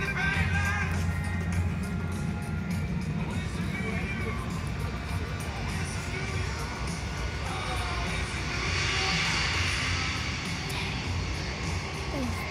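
A C-17 military transport aircraft flying at an airshow, heard as a continuous, broad jet roar that stays loud throughout, with crowd chatter and talk mixed in close by.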